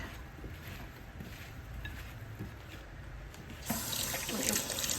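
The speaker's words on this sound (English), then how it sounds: "rinse my hand off" Running tap water splashing as a hand is rinsed at a kitchen sink, a quiet background hiss that swells into a louder, brighter splashing stream near the end.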